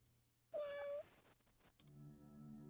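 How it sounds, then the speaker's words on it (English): A cat meows once in a horror visual novel game, a clear, drawn-out cry standing out over a quiet background hum, followed by faint clicks and a low steady tone. "A cat."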